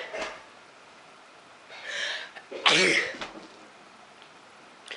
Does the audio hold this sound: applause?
no